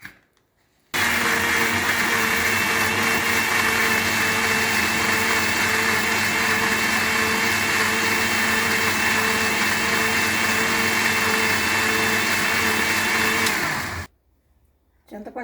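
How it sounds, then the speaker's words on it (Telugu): Mixer grinder whirring steadily as it blends boiled tamarind into pulp for ginger pickle, a loud continuous motor drone lasting about thirteen seconds with abrupt start and stop, no talking. "చింతపండు గుజ్జు మిక్సీ అయిపోయింది."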